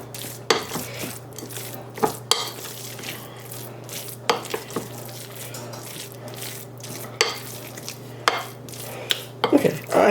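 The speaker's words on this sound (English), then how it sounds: "the more you mix and the more you bash that meat with the back of the spoon, the smoother and softer it becomes" Meat filling for small stuffed peppers being mixed and bashed with the back of a spoon, repeated close scraping and dull knocks against a bowl in an uneven rhythm over a steady low hum.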